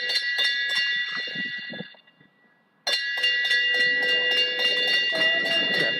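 A bell rings out for the final lap of a track cycling race at an outdoor velodrome, a loud sustained metallic clanging that briefly stops then resumes ringing steadily.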